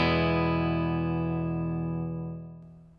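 A single sustained clean electric guitar chord rings out through an amp miked with an Audix i5, decaying slowly over a few seconds before fading.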